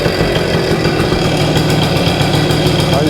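A vintage Kawasaki MT1-B motorcycle engine runs after a kick start, a loud, close, steady chattering idle that pulses rapidly throughout with no voices over it.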